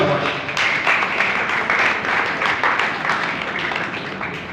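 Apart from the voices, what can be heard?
audience applause in church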